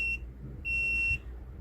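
A Let's Resin AI resin mixer sounds its completion alert: two steady high-pitched electronic beeps, a short one and then a longer one, clear and close against a low background hum.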